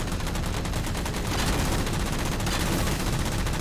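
Heavy weapon fire aimed at a turret in Halo 4 roars as a loud, dense, continuous barrage of rapid shots with no pauses.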